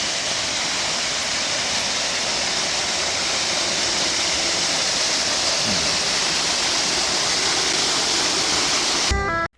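A small waterfall at about 650 m elevation on Deogyusan, Muju, rushes in a constant, loud stream of splashing water, steady throughout and ending with a brief clatter.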